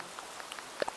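Light rain in the Animal Crossing video game, a soft steady patter with scattered droplet taps, faint and continuous.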